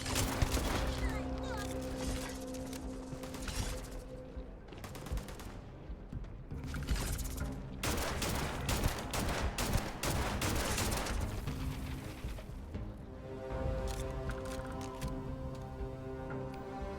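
Gunfire from a gun in the video game Starfield crackles in dense bursts and rapid volleys with short pauses, loud and continuous, with a voice talking over parts of it.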